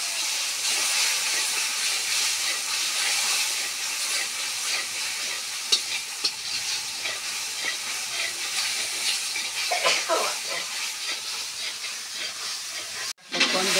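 Steady hissing sizzle of a spice paste frying in a pan, loosened with a little water, while cooking a lentil-fritter, papaya and potato curry, continuous and close with faint stirring noises.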